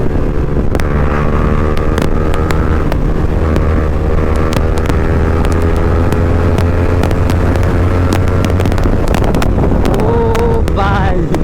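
Roaring engine of a fully modified Yamaha R15 motorcycle ridden hard without ABS, loud and constant with heavy wind buffeting the microphone and rising revs near the end.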